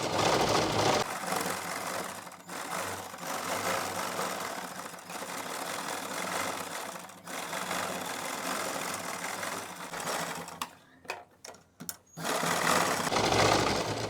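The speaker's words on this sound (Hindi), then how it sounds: "अब हमने इसके ऊपर ढेर सारी सिलाइयाँ लगा देनी है" A sewing machine runs steadily while stitching rows of straight and zigzag decorative lines on salwar cuffs, a continuous close whirring that stutters into brief stops and restarts near the end.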